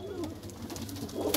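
Soft, close cooing of Punjabi pigeons, a low murmuring coo repeated over a brief moment with faint background noise.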